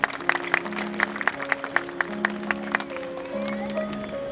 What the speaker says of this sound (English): Huge round of applause for her as well.